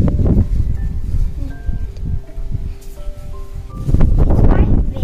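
Wind blows outdoors in loud, buffeting gusts against the microphone, surging at the start and again near the end, with a faint rustle beneath.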